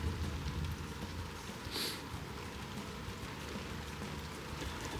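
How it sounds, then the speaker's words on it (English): Rain falls steadily outside a shed, a soft continuous hiss of drops on surfaces, faint and even with no voices. "It's raining."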